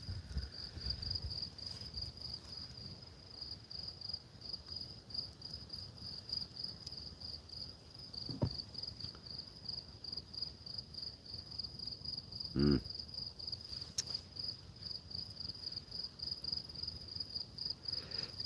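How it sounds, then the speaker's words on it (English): Crickets trill in a steady high-pitched chorus through the night, constant and moderately faint, with a few brief knocks and a short murmur in the foreground. "crickets are back"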